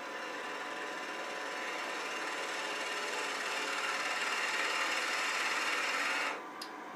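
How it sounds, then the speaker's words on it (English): A detail spindle gouge cuts wood on a spinning lathe, a steady close hissing rasp that holds evenly for several seconds and then cuts off. "And I'll use this detail spindle gouge for that."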